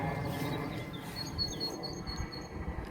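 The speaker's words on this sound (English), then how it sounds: "can you hear the birds?" Faint high bird chirps scattered over a steady low rumble of outdoor background noise in a garden.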